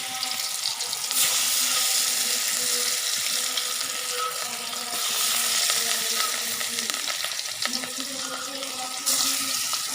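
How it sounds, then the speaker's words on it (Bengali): Hilsa fish fry in hot oil in a wok, giving a loud, continuous crackling sizzle that swells and eases in intensity with no talking. "আমি এখন ভাজি,"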